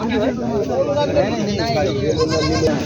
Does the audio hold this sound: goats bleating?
yes